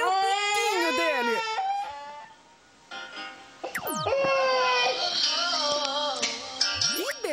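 A baby wails in long, rising cries, pauses briefly, then resumes crying loudly and close by.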